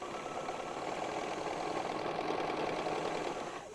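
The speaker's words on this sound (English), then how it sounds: "you're just going to piece across there," A sewing machine runs steadily as it stitches across a quilt binding strip, giving a continuous close mechanical whir that holds for several seconds and eases off at the end, with no talk.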